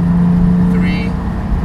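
A Porsche 718 with a Cargraphic exhaust holds revs around 3,000 RPM in a garage, producing a loud, sustained engine drone in a short burst, with a voice talking over it.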